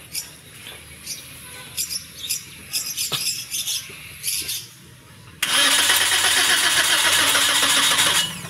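A 2023 Toyota Vios dual VVT-i with a flat battery is cranked during a jump start. It catches into a loud, steady engine roar partway through, and scattered clicks come before it.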